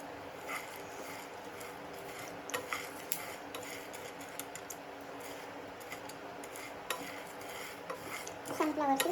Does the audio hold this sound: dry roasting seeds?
yes